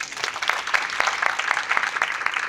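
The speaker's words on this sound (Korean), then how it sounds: "세 분의 연사님께 다시 한번 큰 박수 부탁드립니다" An audience applauding after a forum discussion session, steady clapping from many hands spread across the room, moderately loud with no voices on top.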